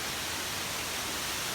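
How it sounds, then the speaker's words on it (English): Broad, steady roar of a giant waterfall in the woods about a mile down a trail, an even wash of falling water holding without a break and no voices. "giant waterfall off here to the left"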